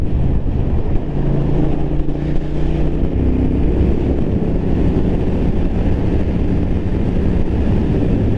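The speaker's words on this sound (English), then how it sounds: "I'm cruising comfortably here at 70 in sixth gear" A 2023 Triumph Thruxton RS Chrome Edition twin-cylinder cafe racer cruises at about 70 mph in sixth gear, a steady low engine drone mixed with heavy wind rush, close and constant, with no talking.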